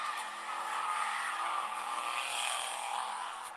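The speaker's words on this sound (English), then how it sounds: "That's when the car rapidly accelerates." A car accelerates hard with its tires squealing, making a sustained, fairly even roar of engine and rubber that holds steady for a few seconds with no one talking.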